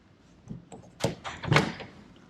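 A rear-hinged suicide door on a vintage car in a private collection is closed, giving a couple of solid, close thunks with some lighter handling knocks around them and no talking.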